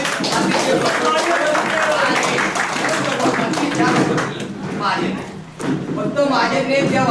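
A group claps hands together at a get-together, producing dense, steady applause that runs through most of the clip with voices mixed in.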